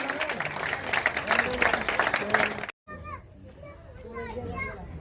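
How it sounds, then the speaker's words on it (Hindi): Crowd clapping and cheering at a public welcome ceremony, loud and busy with excited voices mixed in, cutting off abruptly before quieter talking and chatter. "जोरदार तालियां गजराज कंवर जी के लिए।"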